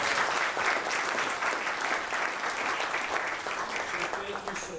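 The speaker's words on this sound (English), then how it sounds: "let's give him a big round of applause." Steady audience applause at a certificate recognition event, a dense continuous clapping from a seated crowd that holds for several seconds and tapers slightly toward the end.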